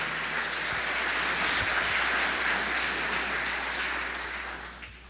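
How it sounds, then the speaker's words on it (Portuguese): An audience applauds at an evening testimonial gathering in Portuguese, a dense steady wash of clapping that holds for several seconds, then fades slightly toward the end. "Eu gostaria de pedir de todos vocês uma grande salva de palmas"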